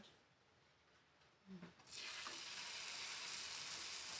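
Uj roti laid on a hot griddle pan with oil bursts into a loud, steady sizzle after a quiet moment and a brief clatter, and the sizzle keeps up without pause.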